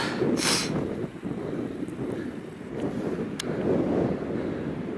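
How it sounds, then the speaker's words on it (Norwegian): Steady wind on high ground in Femundsmarka, Norway, buffets the microphone in a low, continuous rumble, swelling and easing slightly, with no voices. "Det blåser litt mer her oppe."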